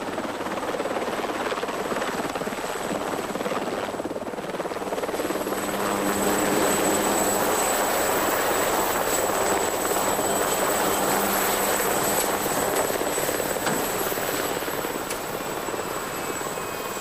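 A helicopter flying a patient to the CHUV hospital, its rotor and engine roaring loudly and continuously throughout with a dense, steady wash of noise and no voices.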